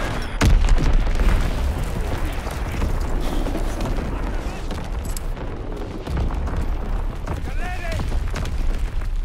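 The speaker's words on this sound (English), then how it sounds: "Dropping Flitz X-Bomb." A Flitz X-Bomb dropped during a Call of Duty WWII sandbox match lands with one heavy boom near the start, then rumbles on under dense battle noise, with scattered later blasts.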